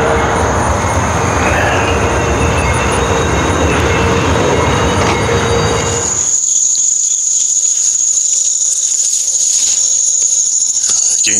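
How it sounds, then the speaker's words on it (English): An Amtrak train near the Potomac in Alexandria, Virginia rolls past as a loud, steady rumble for about six seconds. The rumble then drops away, leaving crickets chirping alone. "Oh, is Amtrak taking off?"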